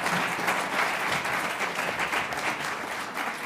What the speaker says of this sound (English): let's give a warm round of applause to our panel